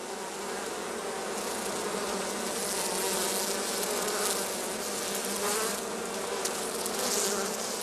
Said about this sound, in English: the bees are now busily collecting pollen and water to help build up the brood nest